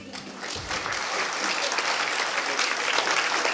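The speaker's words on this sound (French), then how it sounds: "Et on applaudit une dernière fois." Audience applause at a student talent evening in Lille, a dense, steady clapping from a sizeable crowd that swells and holds loud throughout, with no talk over it.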